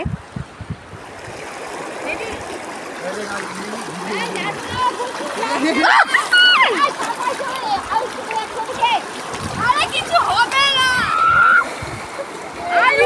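Children and adults splash while bathing in a river beneath Dudhiya Bridge in Darjeeling district, with repeated nearby sloshing and splatter over steady flowing water and excited voices talking and calling throughout.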